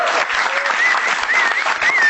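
A crowd at a stand-up comedy battle show claps as the comedians are introduced, a loud, continuous burst of many hands close to the microphone, with faint whistles mixed in.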